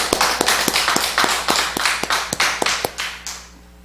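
A church congregation applauds after a prayer at a relay prayer meeting, a burst of sharp, steady claps that rings out for about three seconds and then cuts off into quiet.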